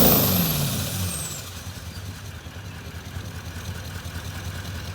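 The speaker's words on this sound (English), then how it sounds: "give it a rev, Alex." Toyota 200 series fitted with a Manta exhaust, untuned: a loud engine rev that falls away into a steady, rumbling low idle with a throbbing exhaust note, no voices.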